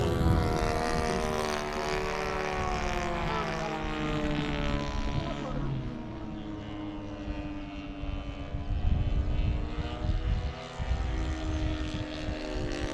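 A Hanger 9 Harvard model airplane with an FS90 four-stroke engine flies overhead, its steady droning buzz rising and falling in pitch as it passes, fairly loud throughout with faint background voices.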